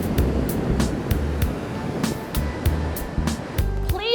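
Sea surf rolls continuously onto the shore, a steady wash of waves heard up close with no voices over it.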